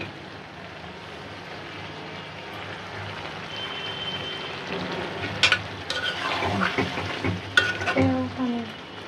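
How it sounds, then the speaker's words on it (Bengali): Hilsa fish curry in a hot pan sizzling and spitting as water is poured in; a soft frying hiss swells into louder crackles and bubbling pops, close and alone. "মাছটা দিয়ে একটু জল দিয়ে দিই"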